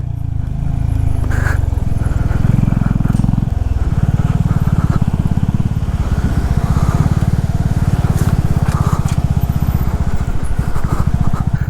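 Honda CB350 RS motorcycle riding on a mountain road toward Chitkul, its single-cylinder engine thumping steadily and loudly up close, with rumbling wind and road noise and no talk.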